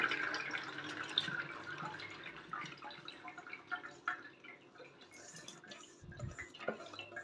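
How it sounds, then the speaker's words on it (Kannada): Soaked cabbage drains through a strainer set over a vessel while making vegetable momos, with soft, steady trickling and scattered drips of falling water that stay fairly quiet and close throughout. "ಒಂದು ಪಾತ್ರೆ ಇಟ್ಟು ಕೆಳಗಡೆ ಅದ್ರ ಮೇಲೆ ನಾನು ಈ ಸ್ಟ್ರೇನರ್ನೆಲ್ಲ ಸೋಸ್ಕೋತಾ ಇದ್ದೀನಿ"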